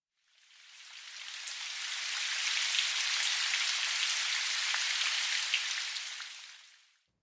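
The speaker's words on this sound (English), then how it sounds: "This is what the rain sounds like." Steady rain hiss fades in, holds as an even wash of pattering drops for several seconds, then fades out.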